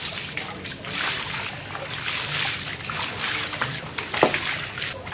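Water splashes and sloshes while a dog named Xerox is bathed, with steady wet splattering and trickling, moderately close and fairly soft, plus one sharper splash near the end.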